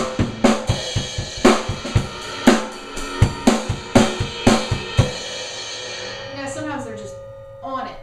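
A worship drummer plays a groove while hitting the crash cymbal often, with bright washy crashes landing roughly every beat or two over kick and snare for about five seconds. A short trailing fill follows as the cymbals fade out.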